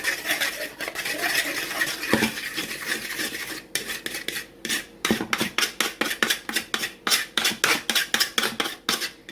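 A fork whisks French toast batter in a bowl: continuous rubbing at first, then a fast, steady series of rhythmic scraping strokes against the bowl, close and clear.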